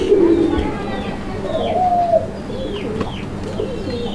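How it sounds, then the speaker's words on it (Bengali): Pigeons, Raj-golla and Madrasi-golla breeds at a farm, coo in low, rolling phrases while being stirred up by hand, several soft calls overlapping close by against faint background noise. "আমি একটু লাড়াচাড়া দিয়ে দিই কবুতরগুলো"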